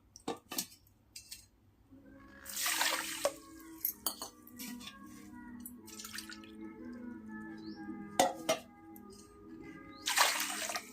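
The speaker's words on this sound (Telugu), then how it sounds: "వాటర్ వచ్చేసి 2 కప్స్ వేసుకోవాలి." Water poured into a pot of sugar for gulab jamun syrup, heard as a few short splashing bursts with clinks of a cup or utensil against the pot in a quiet kitchen.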